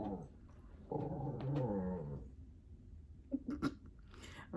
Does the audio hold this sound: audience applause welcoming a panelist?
no